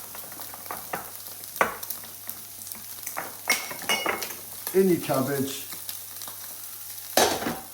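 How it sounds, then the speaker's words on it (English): Pork belly fries in a pan alongside cabbage cooking, with a continuous sizzle broken by sharp crackles, pops and utensil clinks against the pan. A person speaks briefly partway through. "This here, the pork, you can hear it banging and cracking in the background."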